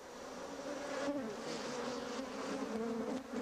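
A swarm of honeybees in flight gives a dense, continuous, droning buzz of many wings at moderate loudness, with no voices.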